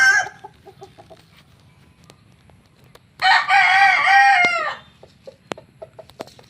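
A rooster crows once, loud and close, a long drawn-out call rising and falling, with faint clucks and scattered ticks around it.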